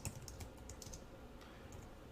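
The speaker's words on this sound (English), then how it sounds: "I can speed along my typing" Steady, quiet clicking of typing on a computer keyboard, keys pattering continuously at a quick, even pace nearby.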